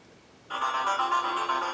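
A phone ringtone starts abruptly and plays steadily through the speakerphone of a Motorola Photon Q 4G LTE, bright and slightly tinny, with no talking.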